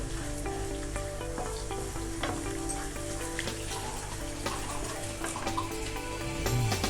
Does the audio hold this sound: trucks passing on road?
no